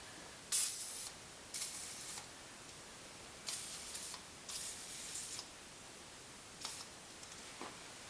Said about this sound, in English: now I'm going to spray some PB Blaster up inside there on the bolts that we're going to be taking off